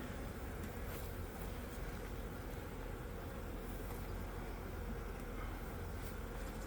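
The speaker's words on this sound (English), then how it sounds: "there's like 6 bees that just flew in with pollen right now" Honey bees buzzing at a beehive during Apiguard thymol treatment, a faint, continuous dense hum with no clear breaks.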